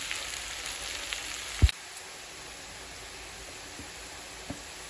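Potatoes frying in a pan for a crispy, spicy potato fry produce a low, steady sizzle with a sharp clatter near the middle and a few faint stirring knocks, close by and without voices.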